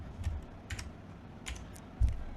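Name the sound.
computer keyboard typing code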